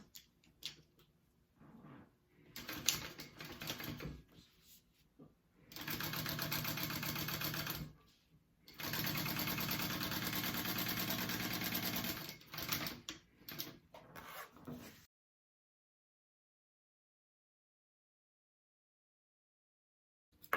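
A sewing machine runs in two sustained bursts, topstitching along the top band of a fabric handbag, with brief starts and stops between and silence at the end.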